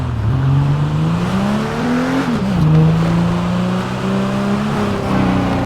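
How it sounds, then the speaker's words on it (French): A Rolls-Royce Cullinan in a GTA roleplay game starts up and settles into a loud, steady engine hum, with pitch rising and dipping slightly as it idles and revs, heard alone. "Je vais vous faire écouter le démarrage du Cullinan"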